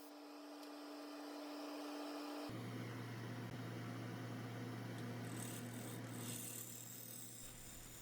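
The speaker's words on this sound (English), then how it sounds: "back to the bowl gouge to take a lot of material off the side" Bowl gouge shaving Maine maple on a wood lathe, a steady close rasping cut over the continuous hum of the spinning lathe, with no break across the stretch.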